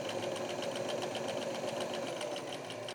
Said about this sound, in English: what I'm doing here is sewing down some flaps and putting in some seams